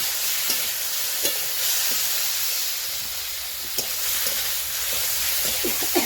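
Papaya frying in a pan, a steady loud hiss and sizzle of oil with a few faint knocks of utensils, and no voices.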